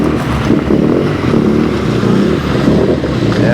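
A rally car's engine revs hard at the Rylstone Classic rally in Australia, a loud, close, continuous rumbling roar that holds steady without a break.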